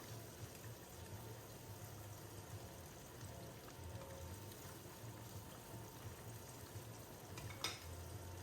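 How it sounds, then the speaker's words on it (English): Whiting fillets fry in a hot pan, a soft, steady sizzle and crackle heard close up and fairly quiet, with a brief clink near the end. "while I start frying my fish"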